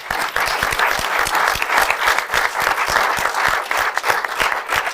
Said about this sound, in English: if we can just give them a good round of applause